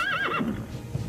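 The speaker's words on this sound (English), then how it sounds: "My horse." A horse neighs in the video game Metal Gear Solid V, a single close, clear whinny with a falling, wavering pitch lasting about a second.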